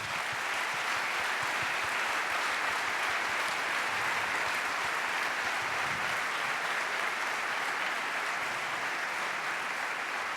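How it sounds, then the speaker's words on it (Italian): A large audience in Rome claps for the firefighters of the Vigili del Fuoco at a calendar presentation, a dense and sustained applause that stays even and unbroken from start to finish. "vi prego, sono qui presenti in tanti, di dedicargli un applauso"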